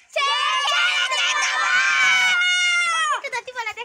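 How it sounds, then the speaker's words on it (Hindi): A group of children shout loudly together at a village Chher Chhera harvest festival, a sustained high chorus of voices that breaks into scattered calls at the end, close and loud. "चलो जोर से चिल्लाओ।"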